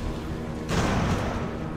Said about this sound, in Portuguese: Vou meter tiro aqui em Providence.